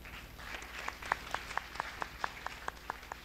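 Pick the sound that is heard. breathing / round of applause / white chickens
round of applause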